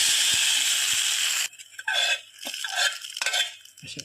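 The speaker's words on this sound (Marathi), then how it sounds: "आणि नंतर ही फोडणी आपण यावर ओतून घेऊया" Hot oil tempered with mustard seeds and curry leaves hits chana dal chutney with a loud, steady sizzling hiss for about a second and a half, then cuts off into a few faint spoon clinks and scrapes.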